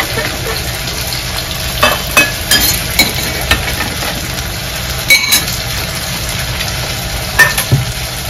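Dried chillies roasting in a pan for a homemade masala, a steady close sizzle broken by scattered clicks and scraping stir strokes, with no talking.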